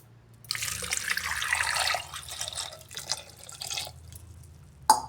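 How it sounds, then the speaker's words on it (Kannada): Water poured from a glass into a pressure cooker holding vegetables for mixed vegetable soup, a steady splashing pour running for about a second and a half, then trickling and dripping before a single sharp clink near the end. "ಇವನ್ನ ನಾನೀಗ ಕುಕ್ಕರ್ಗೆ ಹಾಕಿ ಒಂದು ಗ್ಲಾಸ್ ನೀರು ಹಾಕ್ಕೊಂಡು"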